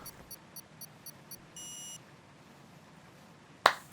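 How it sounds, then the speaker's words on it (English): Race start beeps in a racing video game at Silverstone: a series of short, regularly spaced electronic beeps, then a longer higher tone, followed by a sharp click near the end. "I can hear the beeping"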